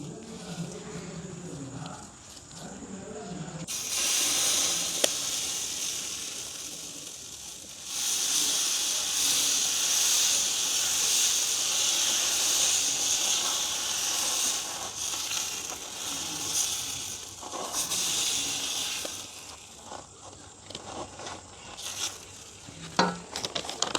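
Roasted gram (pottukadalai) dosa batter sizzling steadily on an oiled griddle in a village kitchen, a loud continuous hiss that swells after a few seconds and fades near the end, with no talk over it.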